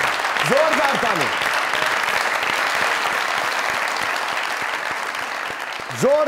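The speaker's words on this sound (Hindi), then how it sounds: "जोरदार तालियां" Loud sustained applause from a comedy talk show studio audience, continuous dense clapping from start to finish, with a few voices calling out near the beginning and end.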